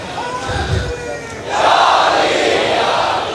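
A large crowd at an Urs gathering raises a loud, roaring religious slogan that swells suddenly partway through, following a few scattered shouts and murmurs, the massed voices sustained and reverberant.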